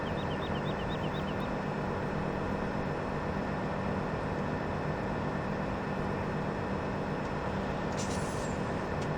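A train in the farming video game Farming Simulator 17 rumbles in a steady, loud mechanical drone with a constant low hum, a few quick high chirps early on and a brief hiss near the end.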